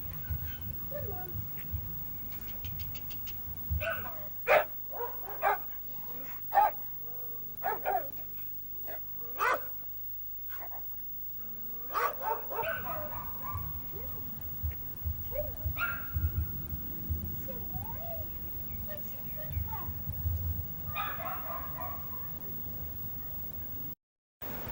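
A young show puppy gives a string of sharp, high yips and barks spread across the stretch, some close and loud, with a whimper or two between them and a person talking quietly.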